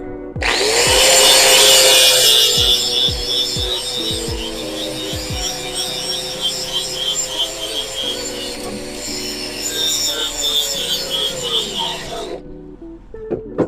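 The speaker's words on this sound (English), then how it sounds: "Okay, we've got the paint ground off." A grinder strips paint from metal before welding, giving a harsh, continuous abrasive whir with a rising spin-up, several sharp clatters early on, and a wind-down near the end, close and loud, with no talk.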